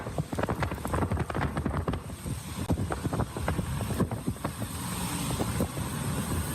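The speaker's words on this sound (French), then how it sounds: "On entend l'ampleur du vent." Strong wind blowing during wildfires, a rough gusty roar buffeting the microphone with crackling, uneven bursts, loud and continuous, with no voices.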